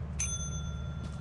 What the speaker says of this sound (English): you don't want to ring that bell again